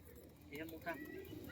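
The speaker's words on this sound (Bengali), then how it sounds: "এই দেখো পায়রা দেখো" Pigeons in a home loft cooing softly a few times, faint and close, under people talking.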